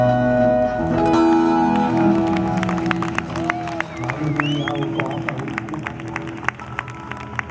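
Live audience applause and clapping after a Hawaiian song performance, a sustained crowd sound over lingering music, with scattered sharp claps and a voice speaking over it.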